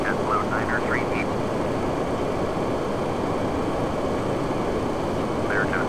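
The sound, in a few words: PMDG 737-800 jet engine startup in a flight simulator video game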